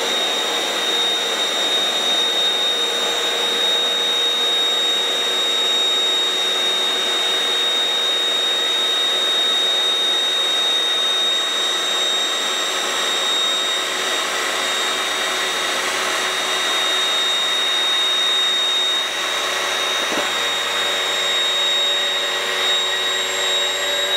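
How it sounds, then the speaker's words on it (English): An electric air pump inflates an airbed with a loud, steady whine and whoosh that holds unbroken throughout, close by and alone. "I'm going to leave it to pump up all the way"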